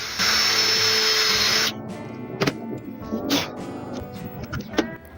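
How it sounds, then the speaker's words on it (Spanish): A power drill fitted with a 1/8 inch bit bores screw holes for a mortise lock plate in a short, loud burst of steady whine, followed by scattered clatter and handling knocks. "vamos a meter igual una broca de 1/8 para poder meter nuestros tornillitos y poder fijarlas"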